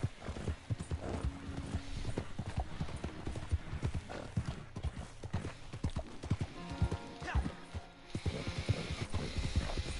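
Horse hooves in Red Dead Redemption 2 clip-clopping in a steady, continuous trotting rhythm, close and clear throughout, with faint game ambience beneath.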